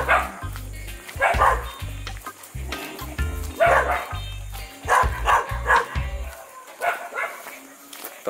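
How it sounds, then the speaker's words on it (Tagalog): A dog barks repeatedly in short bursts, close and loud, with brief pauses between volleys and a few higher yips mixed in. "Takot sa kanya yung aso."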